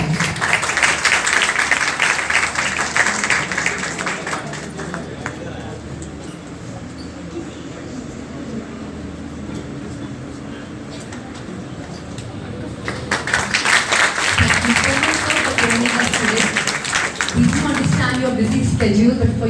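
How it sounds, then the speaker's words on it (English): An audience at a college management presentation gives loud applause that thins and fades, then swells again, with people talking over it toward the end. "Ladies and gentlemen, thunderous applause"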